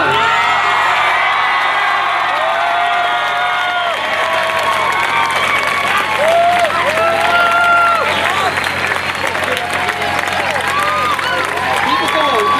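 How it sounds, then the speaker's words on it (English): A standing crowd at a Pearl Harbor memorial parade loudly applauds and cheers for Marines, with whoops and shouts over continuous clapping and some voices mixed in throughout. "how about standing up and giving these Marines a big round of applause?"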